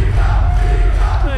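Crowd at a Smite esports match, a loud roaring mass of voices with shouts and cheers, sustained and dense throughout.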